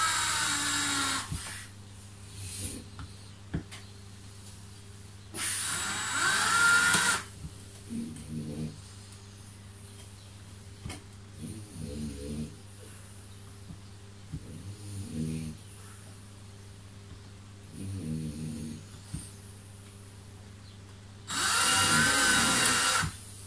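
A power drill bores into a piece of wood during a DIY build of a shrimp and fish saver for an Eheim 350 skimmer, giving loud whirring bursts that start and stop between quieter stretches with short rattles and low background hum.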